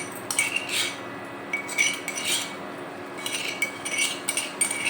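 Metal spoon scraping crushed garlic into a pan in short repeated clinking strokes, close up, with no talking.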